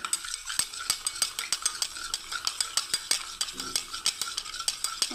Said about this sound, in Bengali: আমি এটাকে মশলাটাকে বন্ধুরা একটু জল দিয়ে ভালোভাবে ঘেটে নিচ্ছি